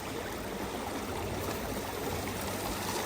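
Slow-moving river water flows past big boulders in a Connecticut river, a steady close rushing and trickling wash with no other sounds.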